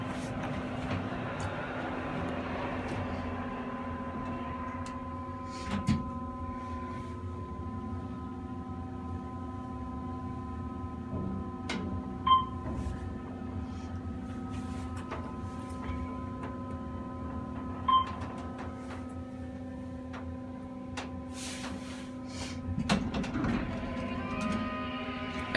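An Otis hydraulic elevator runs at the Shoppes at Fallsview Casino Resort in Niagara Falls, heard from inside the cab: a steady low motor hum with faint tonal whine and occasional soft clicks and ticks throughout.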